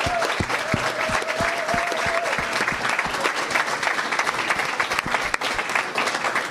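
An audience breaks into sustained applause celebrating a head coach's 600th win with the Rough Riders, a dense clapping wash over a steady thumping beat.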